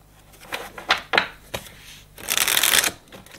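A deck of tarot cards shuffled by hand during a reading: a few quick riffling flicks, then a longer dense ruffle of cards near the microphone, crisp and close.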